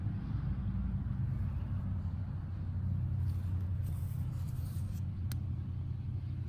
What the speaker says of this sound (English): Sorry, a loud truck just went by.